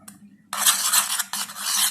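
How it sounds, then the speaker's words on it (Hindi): Ghee is spread across the bottom of a cake pan, a close, bright scraping and rubbing that starts after a short quiet moment, pauses briefly, then carries on, with no voices. "अब मैं घी लगाने लगी हूँ नीचे।"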